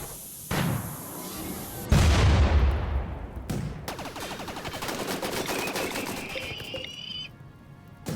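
A mini turret fires in RimWorld, giving loud booming blasts and rapid rattling bursts with fading echoes, and brief high tones near the end.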